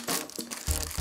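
Crinkly paper or plastic packaging around a computer mouse manual being torn open, close and crisp, with a few rustling bursts and a heavier rip at the end.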